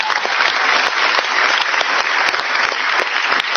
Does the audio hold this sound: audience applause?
yes